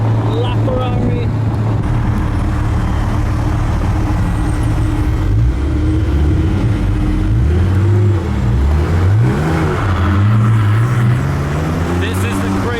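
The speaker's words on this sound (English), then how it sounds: "We are in a Lykan next to a LaFerrari." A Lykan Hypersport and a LaFerrari drive side by side, their engines droning loud and close with rising and falling revs under steady road and cabin noise, and occasional voices mixed in.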